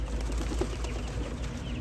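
Pigeons cooing during an evening pigeon show, their low, soft calls blending into a steady, noisy background with no clear pauses.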